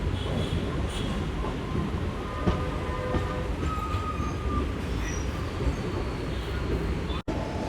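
A MEMU commuter train pulls into Vijayawada Junction with a steady, dense rolling roar and occasional faint squeals and clicks from the wheels, heard from on board.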